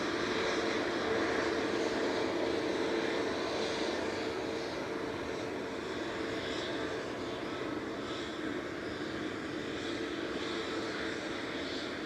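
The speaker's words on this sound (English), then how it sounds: "that Etihad making weird noise" A steady, broad engine roar from an Etihad airliner at Manchester Airport drones on continuously at moderate distance, a constant rushing hum with no clear change in pitch.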